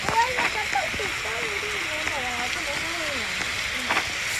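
Rain in the Roblox game 99 Nights in the Forest, a steady hiss of falling water heard under a voice talking.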